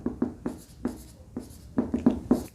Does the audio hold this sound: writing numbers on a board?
yes